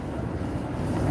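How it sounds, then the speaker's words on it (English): Wind buffeting a microphone outdoors on a breezy morning, a steady low rumbling roar filling the whole moment with no pauses. "It's a bit windy."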